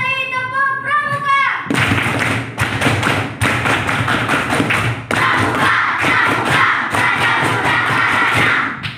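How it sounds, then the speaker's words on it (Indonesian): Scout children at an elementary school perform the Pramuka clap, sharp group claps and thumps in quick patterned bursts with crowd voices, after a short tonal intro at the start. "Dua kali tepuk Pramuka"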